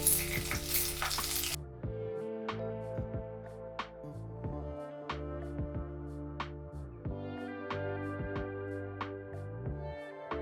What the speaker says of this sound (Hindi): अब ये हमारी बड़ी मिर्च बिल्कुल अच्छे से तल गई हैं।